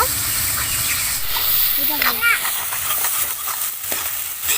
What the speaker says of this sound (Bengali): ভালোভাবে আমি মশলাটা কষিয়ে নেব।